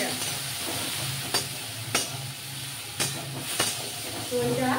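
Chopped onion and slightly unripe chopped tomato fry in a pan with a steady, close hiss and sizzle. A few sharp taps from stirring break through the frying every second or so.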